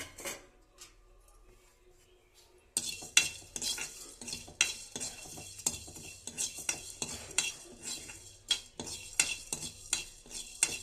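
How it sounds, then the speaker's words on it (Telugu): Coriander seeds, cumin and garlic mixture is stirred in a frying pan, a quiet start giving way to repeated sharp scraping and clinking of a spoon against the pan over a light sizzle. "ధనియాలు, జీలకర్ర, ఎల్లుల్లిపాయ ఉన్న మిశ్రమాన్ని మూకుట్లో వేసి వేయించుకోవాలి"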